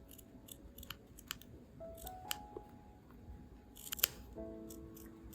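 Sharp scissors snip small, shallow notches around the neckline of a blouse's fabric, a series of crisp, close cuts spaced irregularly with quiet pauses between them.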